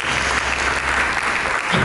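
Congregation clapping during a church sermon, a steady, dense wash of applause from many hands, loud and continuous.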